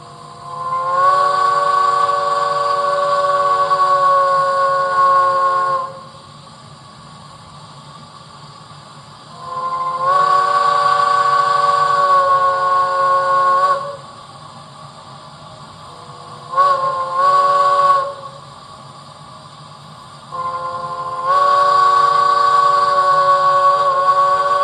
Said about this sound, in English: There's a pre-recorded quill type of whistle on this.